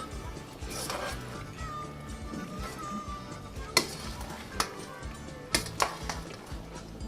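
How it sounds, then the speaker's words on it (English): Cooked macaroni, mayonnaise and chopped vegetables are stirred together in a bowl, giving soft wet squelching with a few sharper spoon clicks against the side, under a faint steady background hum. "we're just going to mix it up very well"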